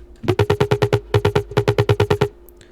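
A punchy Serum synth bass riff with its sub layer muted, short, evenly spaced staccato notes in quick rhythm, thin in the low end with no deep sub underneath, then a brief pause before stopping.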